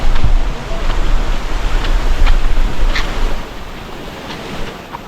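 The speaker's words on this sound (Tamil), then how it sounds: "இங்கே பாருங்கள், ஃபுல்லாக வந்து வாட்டர் ஃபால்ஸ் தான்" Water rushes loudly and steadily at Tada Falls, a full mountain waterfall, with a broad roar that eases slightly toward the end and some wind buffeting.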